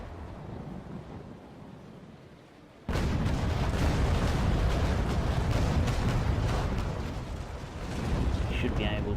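Naval cannon fire from sailing ship guns in a naval combat video game, a sudden loud broadband blast after quiet rumbling wind, followed by a sustained roaring, crackling barrage of shots.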